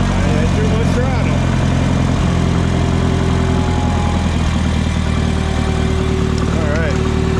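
Minneapolis-Moline U302 tractor engine running after restarting, a steady close mechanical drone with a faint tonal whine rising and falling.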